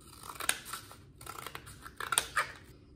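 Scissors snip through legs cut for a recycled-material tide pool critter craft, giving a few sharp, close clicks spread over a quiet moment, with no voices.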